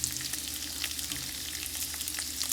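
Bacon sizzling in melted butter in a pan, a steady crackling hiss with scattered pops throughout and a low hum underneath.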